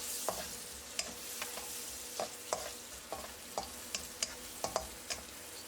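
Small-cut bell pepper stir-frying in a hot pan, a steady sizzle broken by sharp clicks and scrapes of a utensil against the pan at an uneven rhythm, close by with no talking.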